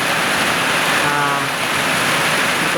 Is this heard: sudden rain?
yes